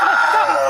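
A human voice imitates a scream of pain with a single short, strained, loud shriek up close, wavering in pitch for under a second.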